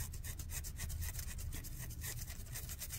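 A small adjustable nylon brush scrubs battery corrosion off solder on a Junghans German quartz wall clock, giving a steady, close, continuous rubbing scratch with quick back-and-forth strokes and no talking.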